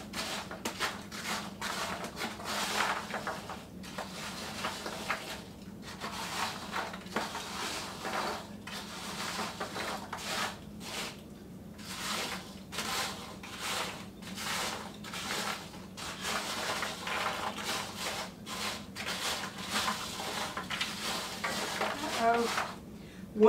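Fiesta Ranch oyster crackers stirred in a pan or bowl, giving a steady run of light dry rattling and scraping clatter that carries on without a break, close and moderately loud.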